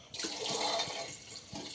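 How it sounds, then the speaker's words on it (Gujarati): A steady stream of water pours into a pressure cooker of tempered khichdi for a couple of seconds, splashing continuously, close by. "આટલું પાણી નાખી દીધું છે"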